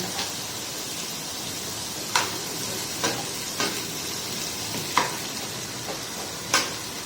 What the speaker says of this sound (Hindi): और इसे इसमें थोड़े से मैं फ्राई कर लूँगी।